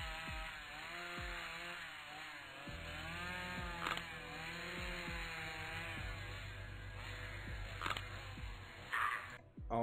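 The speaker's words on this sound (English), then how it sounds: "We finally got to use the chainsaw." Chainsaw in the surgery video game Amateur Surgeon, a loud buzzing engine drone that revs and rises in pitch over the full stretch, with a few brief clicks and clatter on top.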